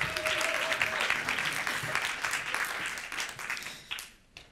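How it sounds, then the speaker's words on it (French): Audience applause for fathers seated in the hall during a live comedy sketch show, a broad wash of many hands clapping at moderate level that thins and fades out toward the end. "Je vous demande, donc, un tonnerre d'applaudissements pour vos pères qui sont dans la salle"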